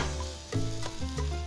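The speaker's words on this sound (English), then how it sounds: "hear that sizzling? That's a hot tray, straight into the oven." Onions and tomatoes on a hot tray inside a Gozney Roccbox oven sizzle and crackle steadily up close, with a few clanking knocks from the tray being moved and no speech.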